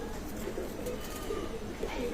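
Pigeons cooing at a pigeon loft, soft low repeated coos over a steady background murmur, with faint voices nearby.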